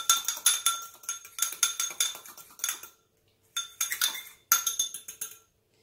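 A utensil clinks and scrapes against a bowl in quick rhythmic bursts while mixing ingredients for fekkas, close and fairly quiet, pausing briefly before resuming.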